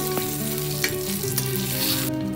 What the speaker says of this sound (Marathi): लसूण सुद्धा मिरच्यासोबत छान भाजला जातो